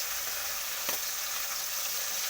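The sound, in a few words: fish frying in hot oil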